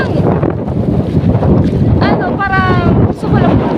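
Strong seaside wind buffets the microphone in a loud, continuous roar with gusty rumbling, while faint voices break through briefly midway.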